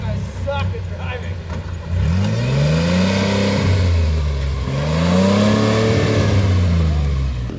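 An off-road rig's engine revs hard on a rough trail, its pitch sweeping up and down in loud, close surges, with people talking over it.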